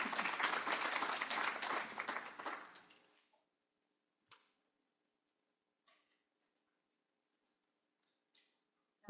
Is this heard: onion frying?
no